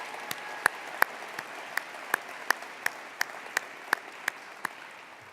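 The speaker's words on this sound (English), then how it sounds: "How about a big Viking cheer for Board Vice President Sunny Zia" An audience at a community college address gives a slow, evenly spaced rhythmic clap, about a dozen sharp claps in unison at a steady beat, moderately distant in a large hall.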